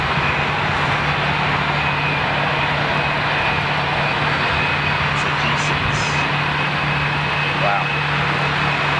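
Steady, loud roar of a Gulfstream business jet's engines at an airport, a constant broadband drone with a low hum underneath, continuous through the whole stretch with no clear change.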